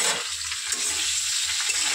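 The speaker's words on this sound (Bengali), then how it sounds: "নাড়াচাড়া করবো।" Spices, salt and turmeric stirred in a pan, giving a steady soft sizzle with faint scraping strokes repeating about every half second, close and alone.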